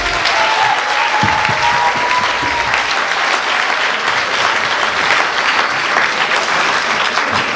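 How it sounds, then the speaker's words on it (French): Loud, sustained applause from an audience at a dance battle, dense clapping filling the whole stretch with a faint tonal whistle early on and no break. "je voudrais vraiment qu'on applaudisse lui et la Team Rocket"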